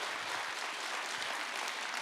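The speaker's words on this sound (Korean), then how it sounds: "박수 한번 드렸으면 좋겠습니다" Applause from an audience at a business presentation, steady and fairly faint, with no talking over it.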